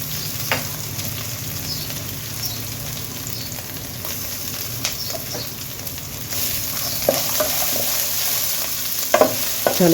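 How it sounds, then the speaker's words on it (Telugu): Ginger, green chilli, coriander and garlic frying in a pan for coriander rice, a continuous close sizzle with occasional spoon scrapes and knocks, growing busier toward the end. "వేగుతూ ఉంటే మంచి స్మెల్, కొత్తిమీర, నెక్స్ట్ అల్లం, వెల్లుల్లి మంచి స్మెల్ వస్తుందండి"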